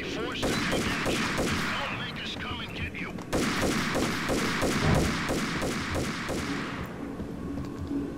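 Enemies firing guns at close range in the video game Max Payne, a sustained run of rapid, evenly spaced shots with a brief pause midway before the volley resumes and fades out.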